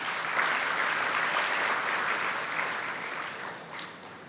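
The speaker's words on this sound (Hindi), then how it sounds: "जैसे यहां शाबाशी की ताली बजाई" Audience applause in praise at a spiritual discourse gathering, a steady broadband clapping wash that stays loud throughout and eases slightly toward the end, with no talking.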